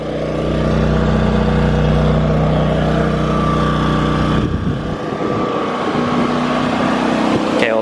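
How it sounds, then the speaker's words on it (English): A fuel-powered generator runs with a loud, continuous engine drone at a steady pitch, close by, its sound thinning and changing partway through as the running noise shifts, with no speech. "Let me go turn the fuel off on my generator."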